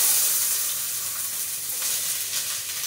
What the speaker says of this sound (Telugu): ఇవి ఆనియన్స్, పచ్చిమిర్చి, ఇవి రెండు ఫ్రై చేసేసుకుందాము.